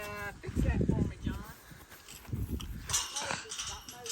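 A horse on a farm clip-clops with its hooves in several scattered, fairly close steps, mixed with ongoing talk, rustling and other farmyard noise.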